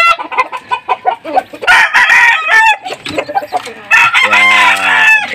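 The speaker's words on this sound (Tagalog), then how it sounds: "So ito yung mga sisiyo niya" A hen clucks near her newly hatched chicks, loud and close, with overlapping bursts of clucking and a crow-like call of a rooster nearby, and brief faint voices in the background.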